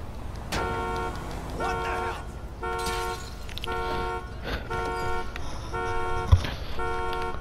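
Car alarm blaring in GTA V, a repeating harmonic tone pulsing in regular bursts of about half a second, steady and loud throughout with a faint background rumble.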